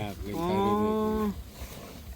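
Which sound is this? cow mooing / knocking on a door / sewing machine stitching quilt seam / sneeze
cow mooing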